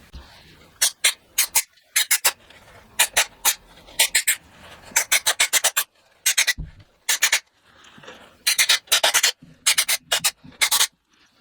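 Motorbike brake disc mounting surface on a custom Kawasaki being scrubbed clean by hand: quick bursts of rubbing and scraping strokes in irregular rhythm, close and crisp, with short pauses between and no talk.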